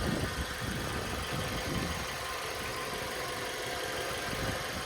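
A Hyundai Tucson engine with 120,000 km idles steadily with a low, even rumble and slight mechanical knocking, and no voices are heard.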